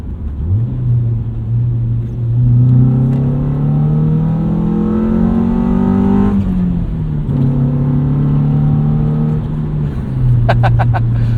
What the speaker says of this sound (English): I love the way B-Series engines sound.